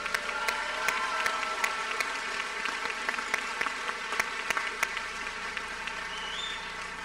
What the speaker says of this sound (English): Let's all join in another big round of applause to our new graduates.